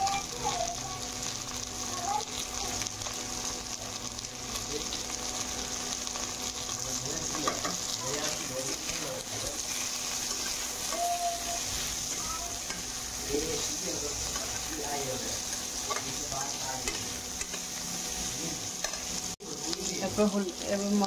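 Potatoes and drumsticks fry in hot oil in a pan, a loud, continuous sizzle with repeated scraping stirs running throughout.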